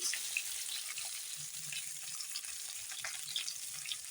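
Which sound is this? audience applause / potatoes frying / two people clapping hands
potatoes frying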